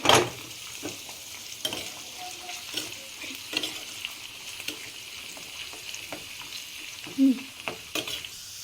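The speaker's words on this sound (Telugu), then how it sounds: "పప్పులన్నీ బాగా వేగిపోయిన తర్వాత లాస్ట్కి కరివేపాకు వేసుకొని స్టవ్ ఆఫ్ చేసుకోవాలి." Lentils, asafoetida and curry leaves fry in ghee for pongal, with a steady soft sizzle, light spoon stirring and a few scraping clicks against the pan. The sound is close and fairly quiet, and no one speaks.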